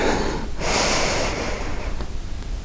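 Deep breathing during a yoga twisted lunge: a steady, close, rushing breath sound runs the whole time, with a brighter, stronger exhale in the middle, and no talking.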